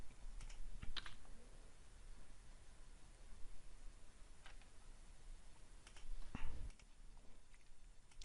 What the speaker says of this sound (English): typing this command. I'm gonna press enter.